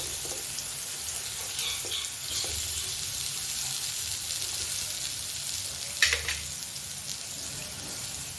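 Sweet potato slices shallow frying in oil give a steady, moderate sizzle throughout, with a brief louder crackle or clatter around the sixth second.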